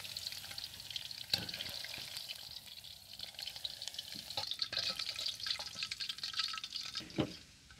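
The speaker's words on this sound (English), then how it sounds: "Still little bit more time to fry a little bit until they turn a golden brown" Chicken pieces frying in hot oil give a steady, close sizzle with crackles and occasional sharp pops and clinks, no voices over it.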